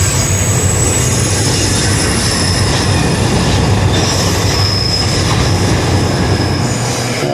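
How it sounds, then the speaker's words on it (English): A mainline train rumbles steadily past over a bridge at very low speed, with wheel noise, faint squealing and a continuous heavy roar that holds at the same loud level throughout. "there was a mainline train, probably a mile an hour, going past on the other bridge"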